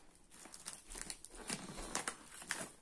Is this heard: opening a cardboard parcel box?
yes